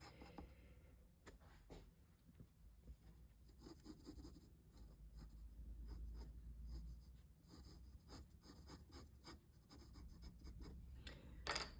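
An H graphite pencil sketching on paper, quiet intermittent scratchy strokes and light rubbing in short bursts, close and faint, with a sharper tap near the end.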